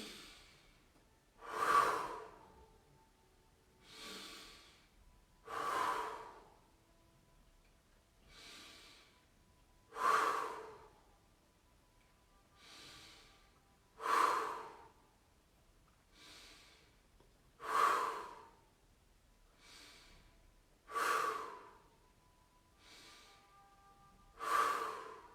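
Slow guided breathing exercise: about eight cycles of soft inhales through the nose, each followed by a louder, breathy exhale blown out through the mouth, close and steady with quiet pauses between.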